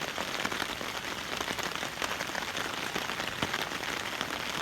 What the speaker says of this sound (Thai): ฝนตกแบบนี้ ตกทั้งวันทั้งคืนเลย